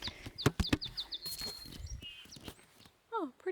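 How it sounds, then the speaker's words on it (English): Several short, high bird chirps repeat rhythmically near the start, then further thin whistled calls and a few rising notes near the end, heard outdoors during a camping trip with a person talking in the background. "bird sound"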